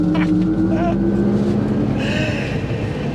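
A 2024 GMC Hummer EV SUV Omega Edition, an 830-horsepower electric truck weighing nearly 10,000 pounds, accelerating hard with a loud, steady rushing roar and a faint rising whine, while someone talks excitedly over it.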